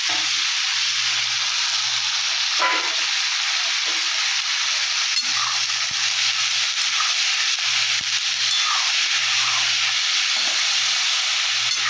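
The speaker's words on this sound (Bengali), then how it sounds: "আলু টমেটো সব ছেড়ে দিলাম" Potatoes and tomatoes frying in a pan give a steady, close sizzle with broad hiss running throughout, with a few soft stirring scrapes and no voices.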